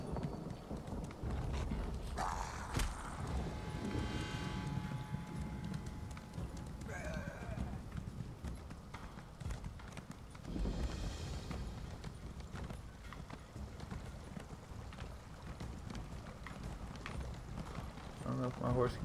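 Horse hooves clip-clop steadily in Elder Scrolls Online on Xbox One as a mounted character rides through the game world, mixed with game effects and ambient sounds.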